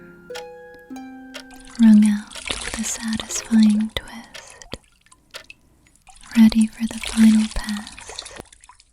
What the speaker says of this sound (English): The cloth dips back into the bucket one last time, wrung out with a satisfying twist.